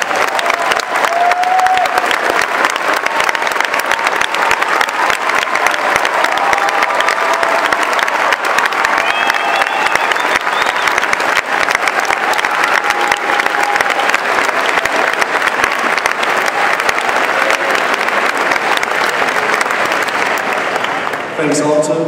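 Sustained applause from a standing audience of staff at a George Mason High School graduation ceremony, a dense, steady wash of many hands clapping from start to finish at even loudness, ending abruptly.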